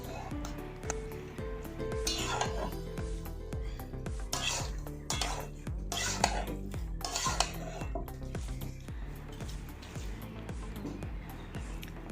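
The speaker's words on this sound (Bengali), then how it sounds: "এবার মশলার সঙ্গে চিকেনটাকে ভালোভাবে মিশিয়ে নিয়ে আমাদের খুব ভালো করে কষতে হবে।" Chicken, about 500 grams, is stirred and fried with spices in a pot for a village-style curry. A spoon scrapes and clatters against the metal in irregular bursts under steady background music.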